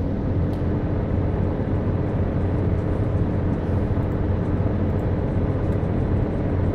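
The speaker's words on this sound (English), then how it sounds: "I'm just doing a quick taxi here just to get on the runway." A Cirrus SR20 light aircraft taxis toward the runway in a flight simulator game, with a steady, loud, droning engine hum that holds constant throughout and no talking.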